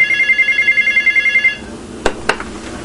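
A telephone, a large desk-style phone, rings in a fast warbling pulse for about a second and a half, then stops and is followed by two sharp clicks against a quiet room.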